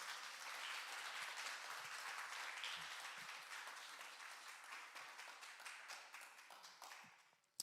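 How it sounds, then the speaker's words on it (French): A congregation applauds during a Saturday church celebration service. The clapping is distant and fairly quiet, holds steady, then thins toward the end, and a single sharp tap lands at the very close. "Est-ce qu'on peut applaudir Jésus qui est allé jusqu'au bout?"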